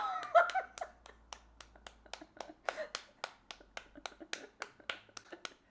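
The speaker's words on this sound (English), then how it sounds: "she's clapping for an extended period of time" Hand clapping in a Christmas song, a long steady run of sharp claps at an even rhythm, fairly close and distinct, with a brief bit of louder sound near the start and nothing else over it.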